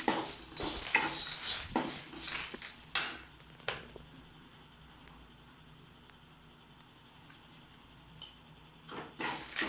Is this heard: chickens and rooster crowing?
no